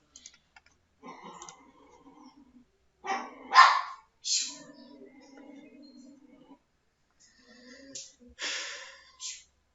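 Scattered dog barks and yelps with growls and whimpers in between, irregular and fairly close, fading in and out.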